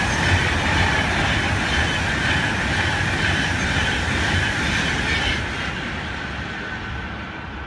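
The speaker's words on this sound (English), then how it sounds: "there should be an express Virgin train passing through platform 6 shortly" A Virgin Trains class 390 express roars through a station platform at speed, a loud, dense rush of wheels and rail clatter that holds steady, then eases slightly toward the end.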